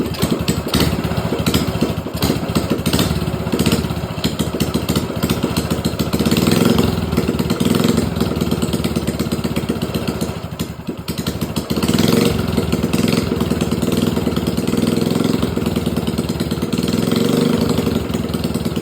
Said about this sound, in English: Just got done putting the engine in the mini bike.